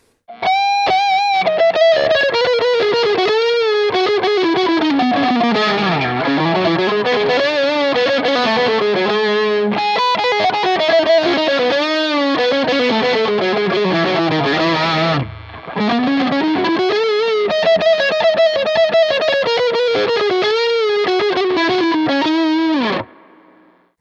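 An electric guitar plays through the crunch channel of a MESA/Boogie JP-2C amp with its built-in reverb and no other effects, a loud, distorted, sustained lead line with bends that stops briefly midway and then continues before ending.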